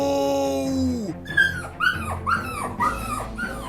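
Dog in the Roblox game Brookhaven RP, a close run of short yips and whimpering barks in quick succession that follows a sustained tone, fairly loud and alone.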